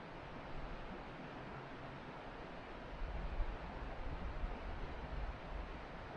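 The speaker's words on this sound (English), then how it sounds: "Should be a relaxing evening for me with the sound of the creek in the background" A creek flows steadily at night in the backcountry of Panthertown, a broad continuous wash of running water that swells slightly partway through, with no voices.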